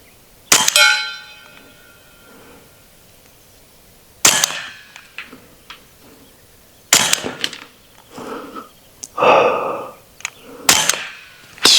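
AEA Select Fire .30 hunting airgun pellets striking a metal target: a few loud, sharp metallic clangs with ringing tails, spaced several seconds apart, and fainter rattles between them.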